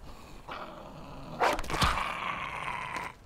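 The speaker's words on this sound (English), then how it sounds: "Oh, and a wild dog apparently." A wild dog in a survival island video game growls over a low rumbling backdrop, rising with a sharper snarling burst midway before fading out near the end.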